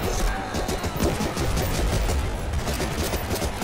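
Sustained rapid gunfire from a firefight in Medal of Honor: Rising Sun, dense overlapping shots in a loud continuous barrage.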